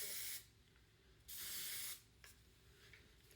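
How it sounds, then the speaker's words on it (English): Two short hissing bursts from an aerosol hairspray can, the second a little longer, with quiet pauses between. "or you can use texture spray"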